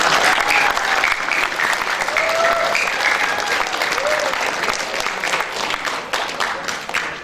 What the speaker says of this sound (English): Please let us give her a big round of applause.